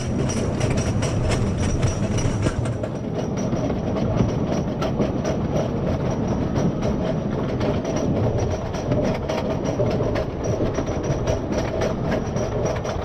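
The oiled chain lift of the Great American Scream Machine, a classic wooden roller coaster at Six Flags Over Georgia, clanks loudly and steadily as the train climbs the lift hill, a continuous close rattling clatter.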